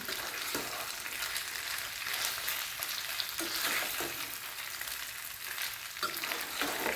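Cut oats muthiya tossed in a pan of hot oil with asafoetida, a dense steady frying sizzle with intermittent stirring scrapes, close and moderately loud, no voices.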